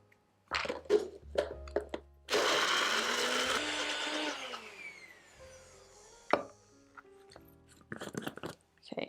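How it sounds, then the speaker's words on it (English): A NutriBullet blender whirs loudly for about two seconds, blending an ice cream cake mixture, then winds down. Brief clatters and soft kitchen handling sounds come before and after. "We're just going to blend this up until it's really, really creamy."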